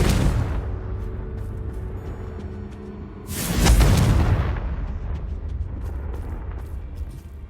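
A deep, booming explosion from the Confringo blasting spell in Hogwarts Legacy hits midway and fades into a rumbling tail over low background noise.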